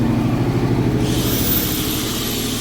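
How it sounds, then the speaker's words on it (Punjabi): A steady engine drone runs throughout, continuous and fairly loud, with a faint high whine rising partway through and no voices. "ਜਨਰੇਟਰ ਚਲਾਇਆ ਕਹਿੰਦੇ"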